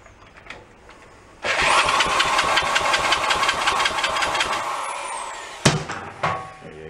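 An engine cranks slowly on the starter during a compression test, a steady rhythmic churning that runs loud for about four seconds, then cuts off, followed by a couple of brief clunks.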